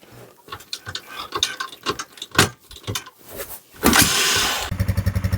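A motorcycle being started in cold weather: repeated cranking and clattering mechanical turns sputter unevenly, then the engine catches with a burst of noise and settles into a rapid, steady idle putter, close by and without speech.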